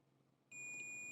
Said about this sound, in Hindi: अगर ये बीप आपका ना हो